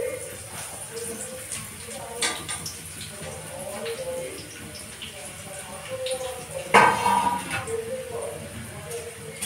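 Onions hit hot oil in a pan and give a steady, close frying sizzle with soft crackles. A sharper spatter or clatter flares near the end, and someone speaks over the cooking.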